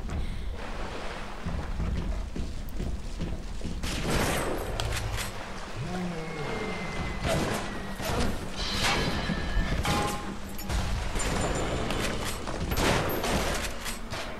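Rosie Big Daddy firing a rivet gun in BioShock: a long run of loud, sharp repeated bangs and clanks over a watery ambient rumble, with bursts of shots spread across the stretch.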